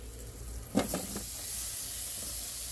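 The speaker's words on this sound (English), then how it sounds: "See what I mean about having that pan sizzling like that?" Steady hissing sizzle of potatoes frying in a hot pan, with a brief clatter of stirring near the start; no talking.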